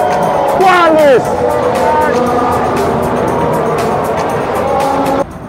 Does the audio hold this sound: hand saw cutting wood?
no